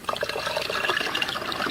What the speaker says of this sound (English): Pour more water in to make the pitch higher.